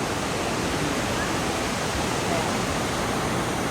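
Wulai Waterfall in Taiwan, viewed from the top on another side of the falls, produces a steady, dense roar of rushing water that holds constant for the whole stretch with no break and no talk over it.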